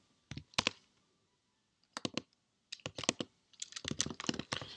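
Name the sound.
typing commands on a computer keyboard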